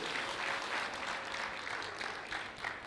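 A round of applause from a roomful of people at an event rises and falls unevenly, faint and distant, for a few seconds.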